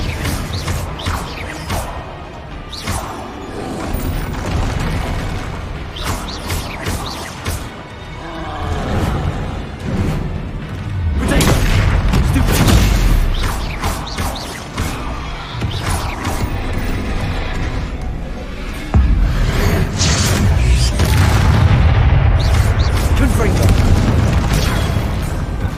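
Confringo fire-blast spells from a Hogwarts Legacy video game erupt in repeated booming, crackling explosions, loud and dense, with heavy blasts swelling around the middle and near the end amid continuous game action and a voice.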